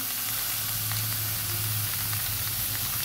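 Pumpkin, drumstick stalks, tomato and other vegetables fry in hot oil in a pan, giving a loud, dense sizzle that stays steady and close throughout.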